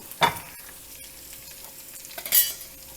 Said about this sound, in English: Now fry the coconut slightly and it's almost ready.